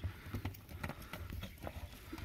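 Purebred horses clip-clop faintly at a distance, with irregular hoof beats sounding through a quiet outdoor scene.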